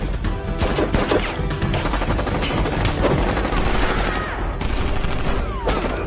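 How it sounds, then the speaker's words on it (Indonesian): Gunfire in a shootout between an operations unit and soldiers in the film Street Fighter: The Legend of Chun-Li: dense, sustained automatic fire with rapid overlapping bursts, loud and chaotic throughout, with crashes mixed in. "Terjadilah tembak-tembakan antara satuan operasi Nash dan Maya dengan tentara Bison."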